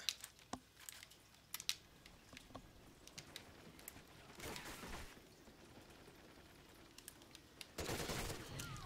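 Gunfire in the video game Ghost, faint scattered shots and a couple of louder bursts over a busy low game background, fairly distant and quiet overall.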